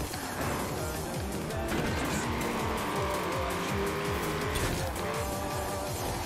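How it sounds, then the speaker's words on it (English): A car drifting in Forza Horizon 4, its engine roaring steadily with rapid gear-like pulses and tire squeal running continuously at close range, loud and unbroken with no talk. "drifting is really good"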